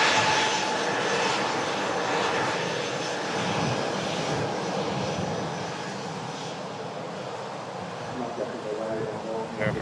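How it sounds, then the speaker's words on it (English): A Sun Express jet airliner taxis at Manchester Airport, a steady broad engine roar that eases slightly toward the end, heard from a distance with a voice talking over it. "Sun Express begins the taxi to gate."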